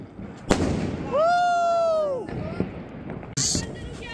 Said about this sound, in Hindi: ये है असली बम,